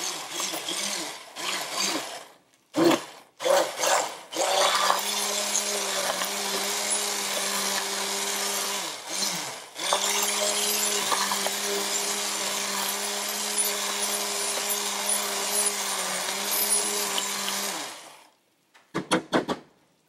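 A countertop blender purees cream of mushroom soup with a loud, steady motor whir for about thirteen seconds, preceded by a few short bursts and followed by brief pulses at the end.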